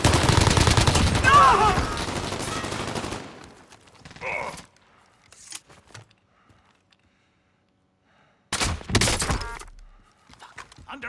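Bursts of rapid gunfire from a Warzone match, dense and loud for the first few seconds, then a short sharp shot, near silence, and another brief heavy burst near the end.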